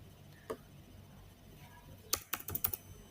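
A computer keyboard is typed on to enter a numeric code: one faint isolated keystroke, then a quick close burst of several clicking keys near the end in a quiet room.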